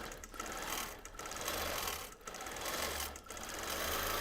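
A sewing machine runs steadily through free-motion quilting on a T-shirt quilt, its needle chatter close and continuous with a few brief slowdowns between bursts of stitching.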